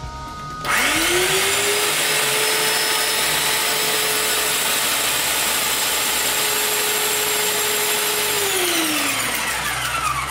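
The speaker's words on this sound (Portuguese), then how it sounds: "Primeiro a gente aperta o gatilho, segura apertado e enche a máquina." An airless paint sprayer pump fills with paint while its trigger is held. A loud, steady motor whine spins up quickly and runs continuously for about ten seconds, then its pitch drops slightly near the end.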